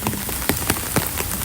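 Rain falls steadily in a dense hiss, with scattered sharper drop impacts on a surface standing out every fraction of a second, close and continuous without any voices.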